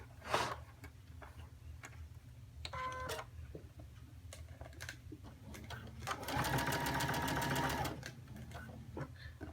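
A sewing machine stitching a V-neckline runs in short bursts of rapid mechanical clatter, with a longer steady run near the end and quiet pauses between, close to the microphone.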